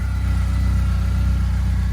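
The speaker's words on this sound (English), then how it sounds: "Car's driving." A BMW E30 fitted with a rebuilt M42 engine is being driven, giving a steady, close engine drone with a regular low pulse and no marked change in revs.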